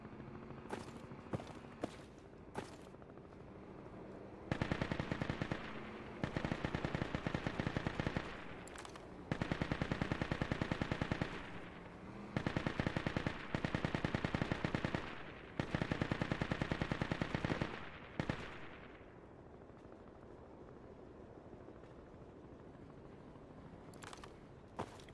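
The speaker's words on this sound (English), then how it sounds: "you hear that AR to our east?" AR rifle fire in the Project Reality military video game, several sustained bursts of rapid automatic shots separated by short gaps, and a few isolated single shots at the start and end, with no talk over it.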